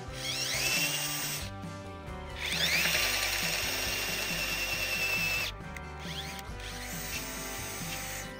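A power drill turns a slightly smaller auger bit boring through an oak-frame timber joint for draw-bore pegging, a loud whining drive with rising pitch, cutting out briefly twice before starting again.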